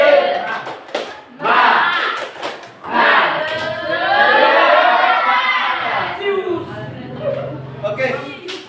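A classroom of students performs a spirit clap chant (tepuk semangat), with loud group voices chanting together in bursts, mixed with rhythmic claps and crowd noise.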